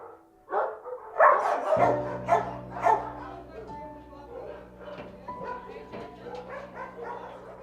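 Dogs at a crowded public shelter in Baia Mare, Romania, home to about 500 dogs, bark and yip in loud bursts near and far, fading into a steady background hum.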